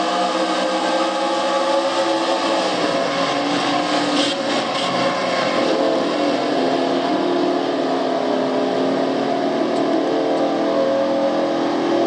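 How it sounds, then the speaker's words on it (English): A race car engine drones loudly and without a break in a racing video game, a steady roaring whine that holds its pitch with slight wavering throughout, and no talking. "Ann Batson's motor is dying right now."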